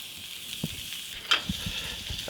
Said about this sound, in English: I want to fry the garlic like